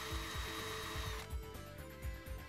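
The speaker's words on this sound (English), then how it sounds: "it's now time to use even less pressure and slow the drill speed down" A power drill bores a hole through a glass bottle at slow speed under light pressure. The motor whirs steadily, with a regular low rhythmic pulsing throughout and a shift in tone about halfway through. No talking.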